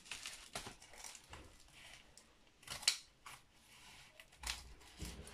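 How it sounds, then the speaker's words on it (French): Scissors cut open parcels from a haul of shopping, making several short, close snips and crunches of packaging in an irregular rhythm, with no talk. "je vais essayer de couper tout ça sans me couper un doigt"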